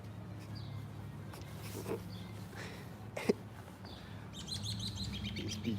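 Faint bird chirps come and go against a low steady hum, with a quick flurry of high tweets near the end.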